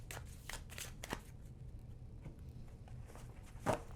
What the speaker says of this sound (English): and give it another shuffle.